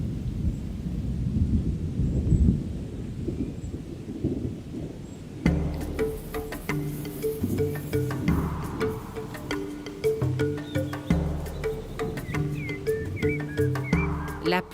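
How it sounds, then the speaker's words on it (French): Thunder rumbles low and heavy over steady rain on the African savanna, and at the midpoint a layer of louder, clustered tonal sounds with a rhythmic pulse joins the storm and continues to the end. "La pluie, ingrédient essentiel au renouveau de la savane."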